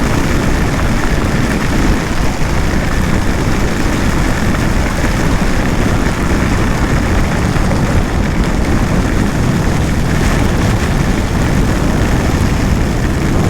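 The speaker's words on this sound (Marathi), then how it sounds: "पुढचं कायच नाही दिसत, एवढा पाऊस आहे" Heavy storm rain pounds a car driving on the Mumbai–Goa highway near Pali, a loud, steady, dense roar filling the whole stretch without a break.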